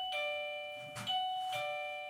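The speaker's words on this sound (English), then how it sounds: "That's the new bell. That's how I know people are here." A new electronic doorbell at a bike shop chimes three times in quick succession, each a clear sustained ding ringing over quiet room noise.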